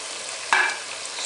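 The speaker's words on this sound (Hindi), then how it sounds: "चिकन हमारा अच्छी तरह भून चुका है, तो अभी इसके अंदर मैं आलू डाल देता हूँ।" Chicken and potatoes fry in a pan for aloo palak chicken, a steady close sizzle with a brief louder burst as the potatoes go in, then the sizzle continues evenly.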